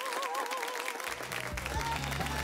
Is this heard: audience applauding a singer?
yes